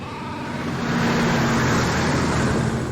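A loud car passes close by on a road, a steady broadband roar of engine and tyres that swells toward the middle and holds for about three seconds with no talk.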